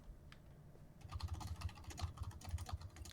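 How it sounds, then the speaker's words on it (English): Rapid, continuous clatter of keys on a computer keyboard, starting after a quiet moment and running steadily at a fast pace, close up. "You're typing at light speed."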